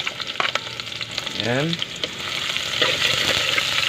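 Garlic and onion sautéing in a pan for chicken tinola, a steady sizzle with stirring scrapes and the food hitting hot oil, while a person speaks briefly over the frying.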